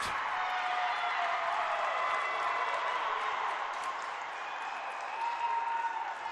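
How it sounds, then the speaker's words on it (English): Volleyball arena crowd reacting to a referee's call in a Clark versus Bellevue match, a steady wash of applause and murmuring voices, fairly distant and continuous without clear peaks. "That call drawing a mixed reaction from the crowd"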